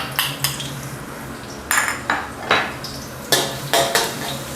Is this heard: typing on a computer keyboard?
no